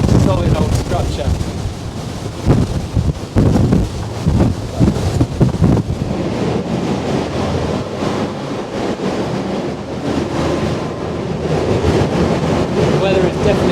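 Storm Eunice gale winds gusting over 90 miles an hour roar across Lundy Island near the lighthouse, with pounding waves and buffeting gusts battering the microphone in a loud, continuous rumble.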